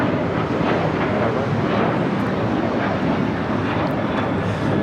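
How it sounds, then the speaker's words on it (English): Delta Air Lines Boeing 737-800 departing LAX: a loud, continuous engine roar with a rough, wind-buffeted texture that stays constant for the whole stretch. "This is Delta Airlines 1865 taking off to Puerto Vallarta on a 737-800"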